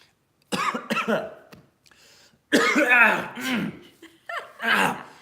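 A few short, harsh coughs and throat-clearing bursts close to the mic, separated by brief pauses.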